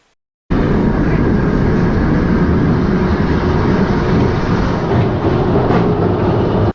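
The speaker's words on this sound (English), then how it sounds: "as the train's getting up to the lift, it's not only engaging the booster drives that feed the train" A loud, steady mechanical rumble and roar begins abruptly and continues without pause as a B&M roller coaster train engages the lift booster drives.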